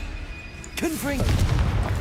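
A Confringo fire spell erupts in Hogwarts Legacy as a short burst that rolls into a crackling, rumbling tail, with a shouted voice just before it.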